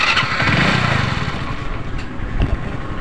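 A Hero Splendor Plus BS6 motorcycle engine starts up loud and close, cranking briefly, then settling into a steady idle with a sharp blip near the end; no one talks over it.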